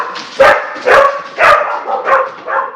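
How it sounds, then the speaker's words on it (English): Several hounds bark in a loud, close burst of five or six woofs spaced roughly half a second apart, with no talking. "Okay, stop barking."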